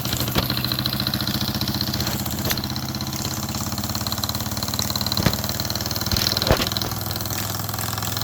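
A small steam engine, the SEL 1530, runs at a steady quiet chug, with a soft rhythmic beat and a few sharp clicks and knocks over a constant mechanical hum.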